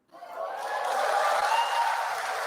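A large outdoor crowd in Goiânia erupts into applause and cheering after a Bolsonaro speech, a sudden roar that swells within half a second and holds steady and loud, distant and massed.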